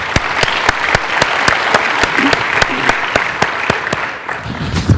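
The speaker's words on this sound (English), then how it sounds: "let's give a round of applause to our speakers" Applause from a conference audience for a panel of speakers at an ICAO TRIP session, steady clapping throughout with a few loud distinct claps standing out near the microphone, gradually thinning at the end.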